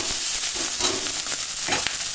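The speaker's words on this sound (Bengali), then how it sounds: "ডিমটা ভাজা ভাজা করে নিয়েছি। এবার পাস্তাটা ঢেলে দেবো।" Cooked pasta goes into a hot pan with fried egg, and a loud, steady sizzle of frying fills the whole stretch, with faint stirring scrapes underneath.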